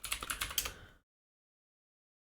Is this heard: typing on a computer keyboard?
yes